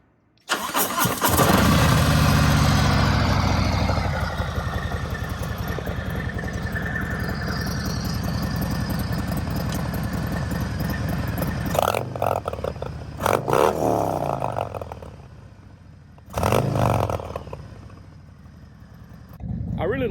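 A motorcycle fitted with an intermediate exhaust baffle fires up and settles into a loud, steady idle with a deep rumble, then blips and revs briefly near the end.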